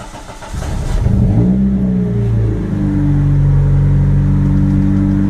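A car's 420a engine starts and then settles into a high, steady idle after an IAC valve delete, with a firm, even drone that holds close and loud.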